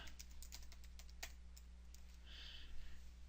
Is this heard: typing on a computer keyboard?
yes